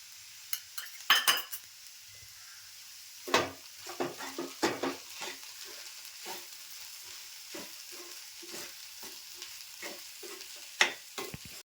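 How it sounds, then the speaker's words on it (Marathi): Okra bhaji with ground coriander, cumin and Malvani masala is stirred in a pan, a spoon scraping and clinking in short bursts over a faint, quiet sizzle. "आणि भाजी ना ढवळून घेते जरा"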